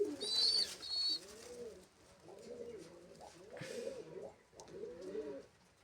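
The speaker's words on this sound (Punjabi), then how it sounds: "ਤੇ ਆਹ ਰੱਤਾ ਕਬੂਤਰ ਹੈ ਜੀ" Pigeons coo in a repeated, throaty rolling rhythm, several soft bubbling calls following one another close by, with faint chirps near the start.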